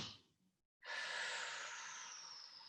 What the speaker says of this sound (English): So here we go, breathe in.